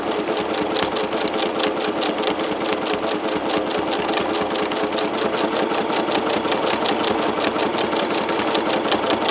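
A sewing machine runs continuously for free-motion quilting, giving a fast, even mechanical chatter that stays loud and close throughout with no talking.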